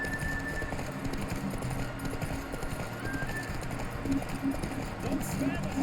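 Hoofbeats of a horse galloping in a Witcher 3 race, a quick clip-clop rhythm under game music and effects, with someone talking over much of it.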